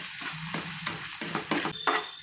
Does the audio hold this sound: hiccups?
no